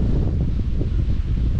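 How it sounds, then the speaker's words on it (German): Strong wind buffeting the microphone on a hilltop along a long-distance hiking trail, a loud, continuous low rumble with gusty swells and no voices. "Aber auch gut windig hier oben."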